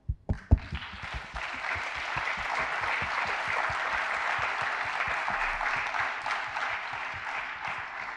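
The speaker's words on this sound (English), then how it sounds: "I would like to ask first a round of applause for all our invited speakers" Audience applause for invited speakers at a university research and innovation day in Lisbon: a few isolated claps, then a sustained, even roar of clapping filling the hall for several seconds.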